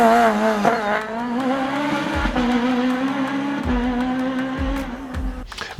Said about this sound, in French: En groupe A avec une voiture qui va simplement être une machine de guerre, la 306 Maxi Kit Car.